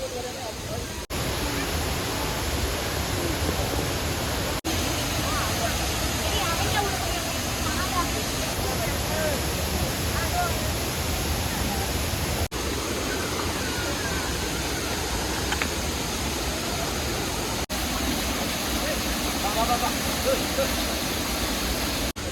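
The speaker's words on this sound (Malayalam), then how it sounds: "നമ്മളിതാ വെള്ളച്ചാട്ടത്തിൻ്റെ ഫ്രണ്ടിൽ വന്നപ്പോഴത്തേക്ക് നമുക്ക് മഴ കിട്ടിയിരിക്കുകയാണ്" Vazhvanthol waterfall in Kerala roars continuously in the rain, a dense, even wash of falling water with faint voices beneath it.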